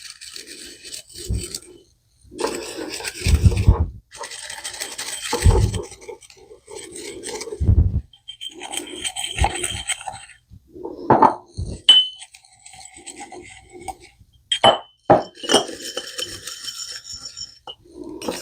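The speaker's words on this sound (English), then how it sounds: "Mix your dry ingredients together and then add your liquid." Dry ingredients for overnight oats being stirred together in a bowl, giving scraping, rasping strokes and light clinks of a utensil in irregular bursts, close and moderately loud, with no talking.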